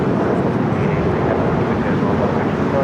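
A British Airways Boeing 777 at LAX, a constant broadband jet roar heard from a distance, steady and unbroken for the whole short stretch and laced with wind noise.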